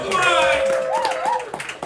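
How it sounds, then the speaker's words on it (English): Pub audience at an open mic night in Tralee claps and whoops for a comedian, with loud, rising cheers and whistle-like calls over steady clapping that tapers off near the end. "give a big round of applause"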